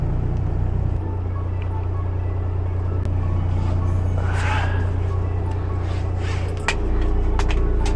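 Truck pulling away on the road, a loud, continuous low engine drone whose pitch shifts as it gears up, with a brief hiss and faint rattles over the rumble.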